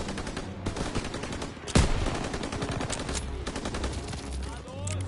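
Gunfire in Call of Duty WWII, rapid machine-gun bursts and a sharp loud shot amid continuous battle noise, with some talking mixed in.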